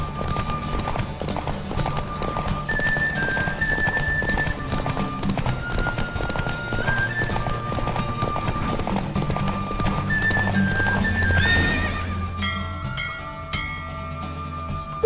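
Horse galloping and neighing in The Witcher 3 in Novigrad, steady rapid hoofbeat clip-clops with occasional whinnies, loud and close, over game music and ambient sound.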